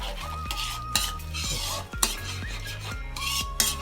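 A utensil stirs ketchup-based buffalo wing sauce in a metal pan, scraping and clinking against the pan in a steady repeated rhythm, close and fairly loud, with no talk.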